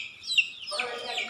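Free-range chickens on a poultry farm give a couple of short, bright clucks close by, the second call drawn out and a little louder.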